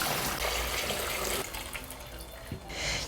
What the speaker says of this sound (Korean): 이제 요 소금물을 오이에다가 부어주세요.